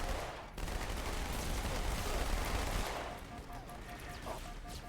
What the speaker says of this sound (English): I don't want to try to talk over gun sounds in my ears